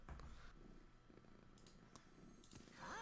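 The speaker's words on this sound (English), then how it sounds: "But you can hear her purr, right?" A cat purrs close by, a low steady rumble with soft repeated pulses running through the whole short stretch, with no talking over it.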